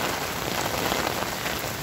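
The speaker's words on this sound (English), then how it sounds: "the reason why I'm yelling is because of this damn rain" Heavy rain pours steadily in a dense, close wash of drops on surfaces, loud and continuous throughout with no voices.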